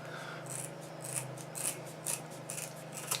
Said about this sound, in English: And then I cut them into squares, varying sizes.